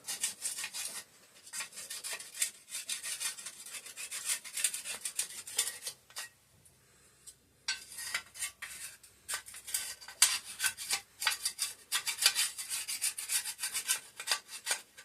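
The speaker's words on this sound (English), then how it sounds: "I'm literally just taking a scraper and scraping out what remains of an old" A scraper digs out the remains of an old air filter from a 5 hp Briggs and Stratton engine, producing close, repeated rasping scrapes in irregular strokes, with a brief pause midway and no talking.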